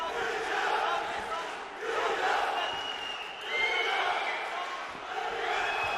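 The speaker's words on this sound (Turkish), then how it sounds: "Tezahürat sesleri yükselmeye devam ediyor İstanbul'da" A crowd cheers at a fight club night at a sports complex in Istanbul, heard at a distance in rolling swells of chanting and shouting, with a commentator talking over it.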